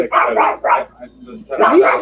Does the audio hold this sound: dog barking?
yes